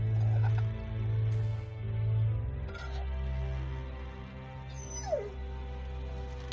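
A dog in Telltale's The Walking Dead whimpers and yips softly several times over a low droning game background, with no talking.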